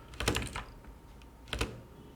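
Computer keyboard typing code at a desk, heard as two short clusters of quick keystrokes separated by a pause, close and moderately quiet, with no talk.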